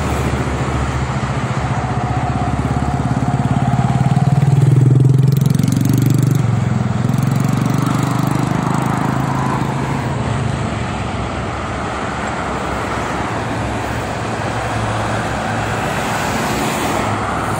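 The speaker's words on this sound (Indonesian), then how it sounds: "lancar juga itu kendaraan pribadi sama truk" Steady roar of private cars and trucks flowing along the Jakarta-Cikampek toll road in the morning, one heavy vehicle swelling close by midway before the continuous traffic wash settles back.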